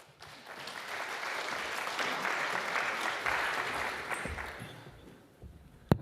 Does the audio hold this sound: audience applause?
yes